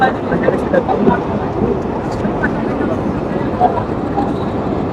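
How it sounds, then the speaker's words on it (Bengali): The Mongla commuter train rumbles steadily as it enters platform three at busy Phultala railway station, a loud continuous roar with crowd voices mixed in. "এটি হচ্ছে তিন নাম্বার প্ল্যাটফর্মে প্রবেশ করছে মংলা কমিউটার ট্রেন"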